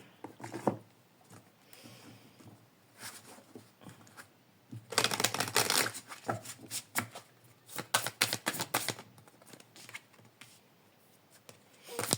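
Energy-healing oracle cards are handled and shuffled, soft papery riffles and taps in scattered bursts, with a dense flurry of quick shuffling in the middle, close and fairly quiet.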